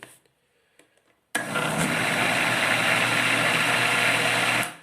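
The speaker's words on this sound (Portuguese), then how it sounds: "vou dar só um cortezinho por causa do barulho excessivo aqui do nosso liquidificador" A blender starts abruptly after a quiet moment and runs loud and steady on carrot cake batter, a dense whirring roar that continues without letup.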